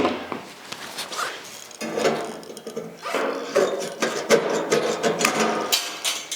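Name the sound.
filing material off a car fender corner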